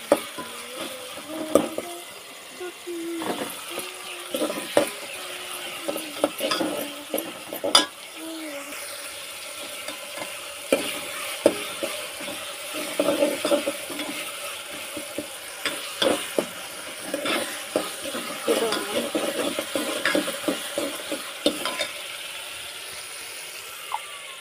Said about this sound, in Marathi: इथे तेल पण ठेवले, तर मी त्याच्यामध्ये टाकून देते कढीपत्ता, अद्रक लसूण